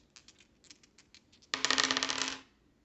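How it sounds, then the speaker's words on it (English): Dice clatter in a Doom board game roll for damage: soft taps first, then a loud burst of dice rattling and tumbling on a table for about a second before settling. "we're gonna roll red die and black die for damage"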